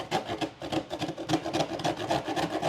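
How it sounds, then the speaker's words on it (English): Metal soup can scraped back and forth across a cheese grater, a fast, even rhythm of rough rasping strokes, close and moderately quiet with no talking. "I'm just going to run it into my cheese grater"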